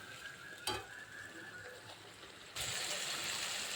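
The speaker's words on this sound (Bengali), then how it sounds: "মশলাটাকে একটু কষাবো" Spice paste for a goat meat curry is stirred and fried in oil, with a faint sizzle, a sharp utensil knock early on, then a louder, hissing fry that swells and carries on.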